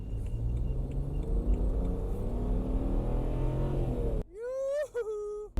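BMW 335i with the N54 twin-turbo engine revving and building boost, a loud, steady rumbling drone for about four seconds that then cuts out, followed by a sharp, rising whine.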